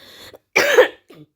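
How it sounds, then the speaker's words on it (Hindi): One harsh, close cough burst, bracketed by short throaty breaths before and after. "खांसी इतनी हो रही है ना, बोला भी नहीं जा रहा"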